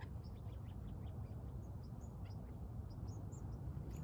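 Birds call outdoors near sundown, faint high chirps scattered in quick bursts over a heavy low rumble of wind or outdoor noise, with no one talking.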